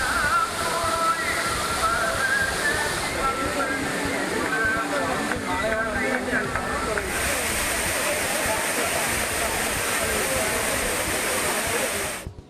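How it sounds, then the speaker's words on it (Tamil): At Courtallam waterfall a dense, continuous roar of falling water fills the scene while tourists and Ayyappa devotees bathe beneath it, with crowd voices and a narrating voice over the steady rush. "சுற்றுலா பயணிகள், ஐயப்ப பக்தர்கள் அருவியில் குளித்து மகிழ்ந்தனர்."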